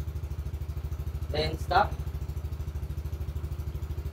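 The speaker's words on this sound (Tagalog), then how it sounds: "Maandar na yung makina." A Yamaha NMAX V1 scooter idles close by with a steady, rapid low putter throughout. Someone briefly speaks over it midway.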